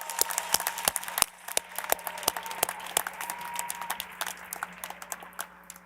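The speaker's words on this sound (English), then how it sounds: "Let's give them a round of applause as well." Audience at a Georgia Tech Scheller College of Business master's commencement clapping, a crisp scattered round of applause from a moderate crowd that thins out gradually toward the end.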